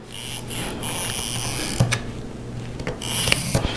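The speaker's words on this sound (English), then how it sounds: "just make a line all the way across" A marking tool is drawn across fabric to mark a 1 1/4 inch hem line for a shirt-jacket, making soft, scratchy rubbing strokes. A few sharper clicks and scrapes stand out near the middle and the end, and no one speaks.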